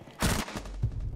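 Gunfire in the video game Rainbow Six Siege: a sharp loud burst of shots, a brief lull, then another close report, punchy and echoing.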